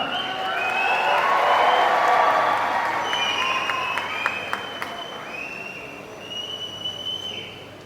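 An audience at the Thrissur Magic FC football team launch applauds for actor Nivin Pauly, a swelling wash of clapping that gradually fades, with some crowd noise and a voice over the top.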